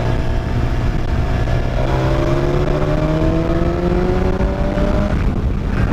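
Heavy 1000cc motorbike engine accelerating on a road, loud and close, its rising pitch climbing steadily through the gears over constant wind rush, with no talk.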